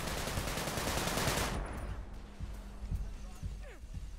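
AK rifle fire in the game Sunset Overdrive: a rapid, loud burst of automatic shots at the start, then scattered single shots and sounds of combat, with a player talking.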